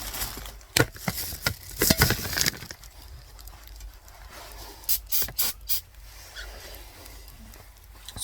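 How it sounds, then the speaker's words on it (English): Several short hissing bursts of brake cleaner spray on a Chevy Sonic's brake parts, a long one near the start and quick puffs later, close by amid small clicks and handling noises. "Spray a little brake cleaner on there"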